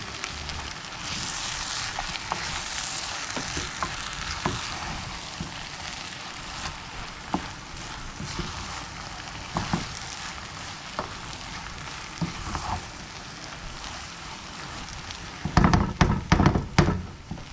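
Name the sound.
flour browning and sizzling in a pot for beef chili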